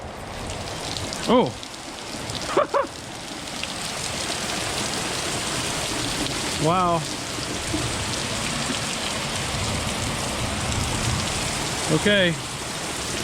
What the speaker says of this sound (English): I dare say it's raining.